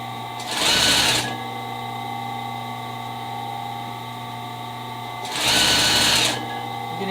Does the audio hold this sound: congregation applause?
no